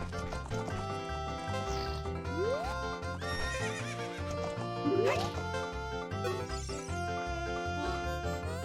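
A horse neighs in The Legend of Zelda: Ocarina of Time over steady looping game music, with a rising whinny mid-clip and hoof clip-clops.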